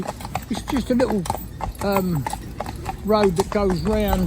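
A pair of Friesian mares clip-clop along a small road, their hoof beats steady and fairly close beneath a voice talking throughout.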